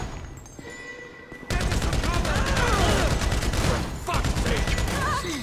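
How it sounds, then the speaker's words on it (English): Sustained gunfire in GTA 5 during a bank-robbery shootout in Paleto Bay, with dense, loud volleys of rapid shots and bursts that continue steadily after a brief quieter lead-in, while voices talk over the fighting. "So I guess we're shooting our way out of here!"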